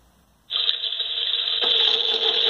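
A rain sound effect played by a Franzininho microcontroller board, a steady hiss of synthetic rainfall that starts abruptly and continues evenly, growing slightly fuller partway through, with no voices.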